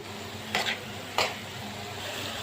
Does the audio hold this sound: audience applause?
no